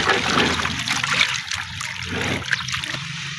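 Water is stirred and splashed in a container to dissolve cattle feed additives, giving a continuous close trickling and sloshing with small splatters throughout.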